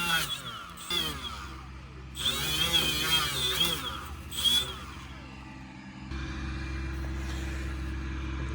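A power buffer polishes a large hydraulic cylinder from a Cat 977, whining loudly in bursts with pauses, then settling into a steady motor drone.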